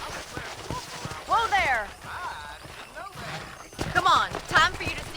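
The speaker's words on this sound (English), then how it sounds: "let's see if you can still ride a horse" Horse hooves clip-clop during riding in the video game Red Dead Redemption, rhythmic footfalls mixed with neighing and snorts while a character speaks over them.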